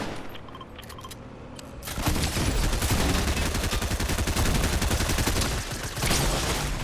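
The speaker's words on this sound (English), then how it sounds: "Oh, someone's shooting." Sustained video game gunfire from an online shooter session, starting after two seconds and continuing as a dense, loud, rapid automatic barrage with no talk over it.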